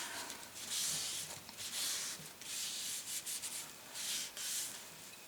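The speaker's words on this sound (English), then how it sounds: "wipe off any excess glue here" Soft, steady rubbing comes from wiping excess glue off a paper craft card, in broad hissy strokes that rise and fall over several seconds, close and with no speech.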